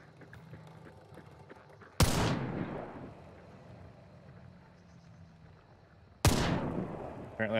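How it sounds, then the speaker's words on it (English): Two heavy nitro rifle shots in the video game Hunt: Showdown, each a loud sudden crack with a long rolling echo that fades slowly, set about four seconds apart over quiet outdoor ambience. "I'm gonna grab this nitro and take a shot at him."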